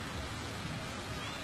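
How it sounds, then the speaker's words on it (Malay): Rain falling on a wet race track during a motor race, heard as a continuous, fairly faint hiss of broadband patter with no breaks. "Okey, nampaknya hujan telah pun turun."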